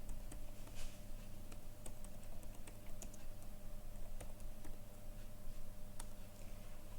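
Steady computer keyboard typing with scattered key clicks and an occasional firmer keystroke like Enter, close and quiet over a faint room hum.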